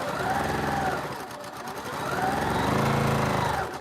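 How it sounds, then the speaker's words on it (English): A fast sewing machine stitches quilt blocks for a double carpenter's star quilt, a steady close rapid mechanical whir that slows briefly and then speeds up again. "Luckily, I've got a nice, fast sewing machine."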